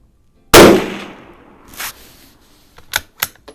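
A single sharp, loud crack from a Savage Model 93 .22 Magnum bolt-action rifle fired outdoors, followed by a fading echo and a few faint clicks and thumps afterward.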